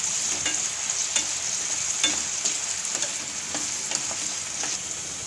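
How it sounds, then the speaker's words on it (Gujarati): Potatoes frying in hot oil in a pan while cooking a sweet potato and potato curry, a steady dense sizzle with occasional soft stirring clicks, close and continuous with no talking. "તો 2 મિનિટ જેવું આપણે બટેટાને તેલમાં ચડવા દેવું."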